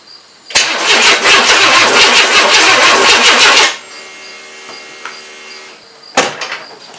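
Car engine cranking after an engine install with a stuck starter: a loud, continuous whirring crank for about three seconds that stops without firing, a quiet pause, then a short second crank attempt.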